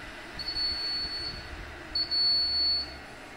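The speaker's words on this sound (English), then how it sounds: "the UPS is the new configuration, not recognize the battery charge and give me the alarms battery discharging" A UPS battery-discharge alarm sounds two steady high beeps, each close to a second long, separated by a short pause, above a faint low hum in a service center.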